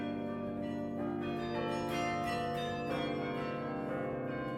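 Carillon bells in the Bruges belfry, played from a keyboard, ring out in a dense, continuous wash of overlapping tones, loud and very close up.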